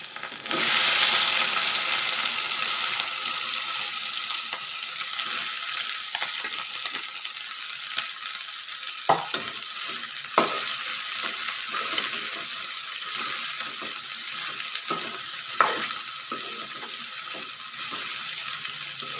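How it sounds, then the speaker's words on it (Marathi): Garlic and chopped okra fry in a pan with a steady hiss, and scattered scrapes and knocks of stirring rise above it now and then, at moderate level, with no voices. "लसूण आता खरपूस झाला आपला आता आपण घालणार आहोत त्याच्यामध्ये चिरलेली भेंडी"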